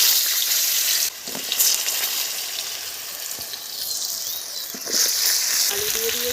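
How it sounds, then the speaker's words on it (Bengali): Potatoes frying in hot oil after fish in a home kitchen, giving a steady close sizzle and crackle throughout with brief stirring clatter near the end. "আলু দিয়ে দিয়েছি, আলু ভাজতে দিয়েছি"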